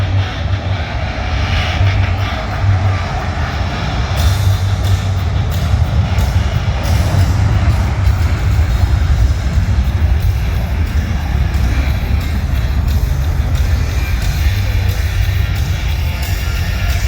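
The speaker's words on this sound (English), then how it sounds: "prior to the time the FA-18 Super Hornet takes off" F/A-18 Super Hornet jet at a Dayton airshow, a loud continuous roaring engine rumble that persists and builds slightly, close and dominant throughout with no voices.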